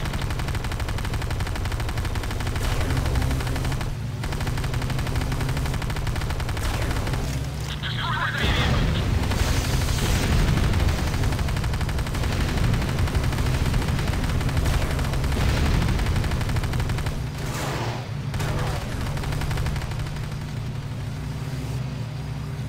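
Video game gunfire and explosions during an attack on a Nod airstrip in Command & Conquer Renegade, with dense, continuous booming and rattling battle noise and bursts of heavier impacts, under intermittent game voice announcements.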